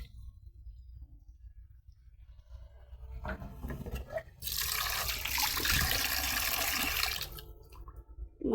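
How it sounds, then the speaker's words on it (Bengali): Fish are rinsed clean under running water in a home kitchen. After a quiet start with faint handling, a tap gushes for a few seconds, then cuts off into soft splashes. "এই মাছ দিয়া এখন মাছটা সুন্দর করে পরিষ্কার করে ধোবো।"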